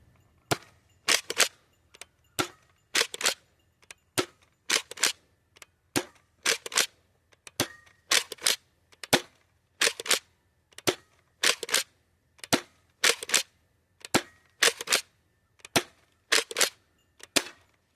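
A Nerf Pro Torrent blaster fires darts in a steady run of about twenty loud, sharp shots, evenly spaced roughly every second, each a crisp snap with no talking.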